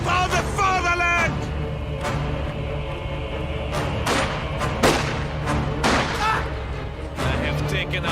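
An incendiary artillery barrage in a war video game, with a cluster of booming impacts and thuds in irregular bursts over battlefield noise and a brief voice.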